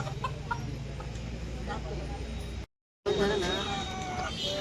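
Country chickens cluck in a busy outdoor Sunday weekly market in Kudal, short clucks scattered over steady crowd noise and talk, broken by a brief silence.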